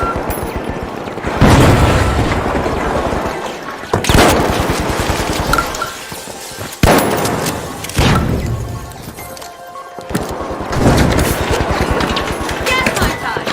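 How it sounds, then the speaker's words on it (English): A frag grenade goes off in the video game The Finals. Several heavy, booming blasts come a few seconds apart, mixed with rapid gunfire and chaotic game noise, with a voice talking over the action. "Frag grenade sent."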